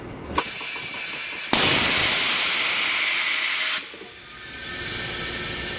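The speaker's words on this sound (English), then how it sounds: "What the big blast of air does is shoot air out of these nozzles down here. It kind of helps pop the tire onto the rim." A tire changing machine blasts compressed air from nozzles to seat a tire bead on its rim, producing a loud, close, continuous hiss that surges stronger midway, then cuts off into a softer lingering rush.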